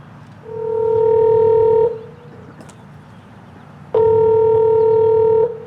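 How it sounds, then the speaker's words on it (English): An outgoing phone call ringing on the line: two long, steady electronic ring tones of about one and a half seconds each, separated by a silent pause, loud and clear, with no speech. "I'm going to give Amy a call right now."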